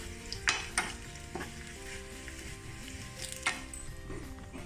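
A tempering sizzling in a pan for a Mangalorean silver fish curry, a quiet close crackle with a few sharp pops and spits over a low steady hiss, no voices.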